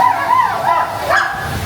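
Voices imitate a dog barking and yipping at a birthday party at a private resort, with a few short whining barks repeated close up and fairly loud.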